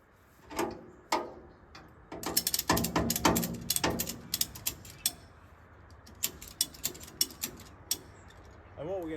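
Ratchet tie-down straps are cranked on a car trailer during vehicle loading, giving clusters of sharp mechanical clicks and clacks at an irregular pace, close by and fairly loud.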